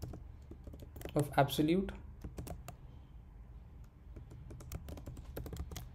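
Code being typed on a computer keyboard, rapid irregular key clicks close by, with a person speaking briefly over the typing partway through.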